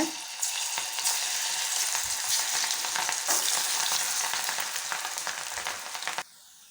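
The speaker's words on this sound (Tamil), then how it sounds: "இப்போது பொரிச்சு எடுத்துடலாங்க" Cauliflower pieces deep-fry in moderately hot oil in a kadai for cauliflower 65, a loud, continuous bubbling sizzle with occasional crackles, ending abruptly near the close.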